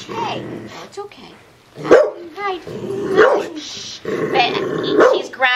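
At an animal shelter, a dog gives close, repeated barks and growls in uneven bursts, mixed with a person talking nearby.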